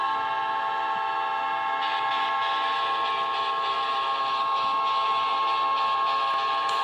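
Winnipeg Jets hockey goal horn blaring in a sustained, loud, chord-like blast resembling a train horn, steady throughout with no voices.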